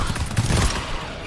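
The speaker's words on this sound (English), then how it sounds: "Wait, this is a burst fire weapon?" A burst fire weapon in GTFO lets off a quick, loud, tightly packed run of gunshots that blur into a short rattling volley, heard alone at close range.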